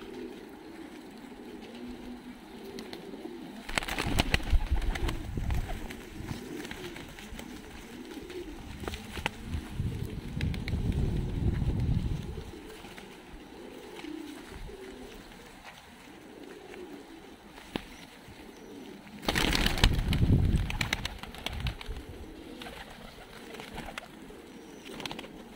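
Fighting pigeons coo in the sun in Tbilisi, Georgia, with soft low coos running throughout. Louder rustling bursts, likely wing flaps, rise over a faint background hum at a few points.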